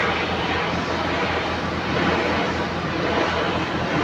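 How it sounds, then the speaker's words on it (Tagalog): A pressure washer runs at a car washing area as a loud, steady, broadband hiss and roar that continues without break throughout. "Kita nyo naman gaano kalakas yung pressure washer nila, oh."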